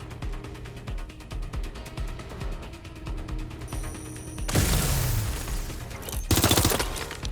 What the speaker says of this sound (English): Target is firing.